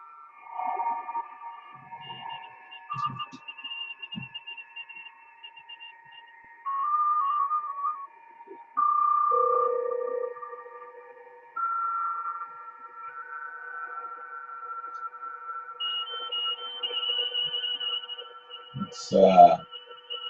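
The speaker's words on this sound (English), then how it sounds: "These little tones here are BPSK 31, which is a digital mode." BPSK31 digital mode tones on the 10-meter amateur radio band: several thin, steady warbling carriers at different pitches sounding alone from a receiver, starting and stopping, ending with a brief sweeping tuning chirp.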